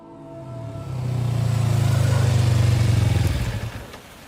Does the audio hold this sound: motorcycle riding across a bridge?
yes